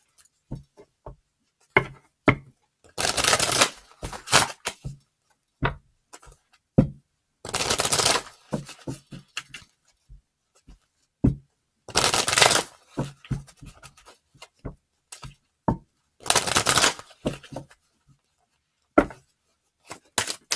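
Repeated bursts of riffling tarot cards, several quick shuffles separated by soft taps and light handling clicks, close and clear with no talking.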